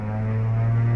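A Cessna light aircraft engine runs at full power with the brakes on, a steady, loud droning hum with strong low tones that holds constant throughout.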